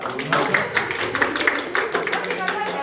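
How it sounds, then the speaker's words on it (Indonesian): Audience clapping at a student welcoming party, with scattered claps standing out over steady chatter and voices close by. "Ya, tepuk tangan dong."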